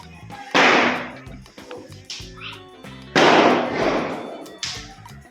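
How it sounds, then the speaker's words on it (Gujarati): Firecrackers bursting outside a house during a festival night, several sharp pops and louder cracks at irregular intervals with lingering rumble, a few nearer and loud, heard with faint background voices. "ફટાકડા અવાજ બહુ આવી રહ્યો છે"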